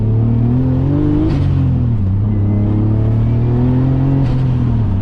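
A 450 HP turbocharged BMW E34 drives on the road, its engine droning loudly and steadily close by, with two brief shifts in pitch as the revs change.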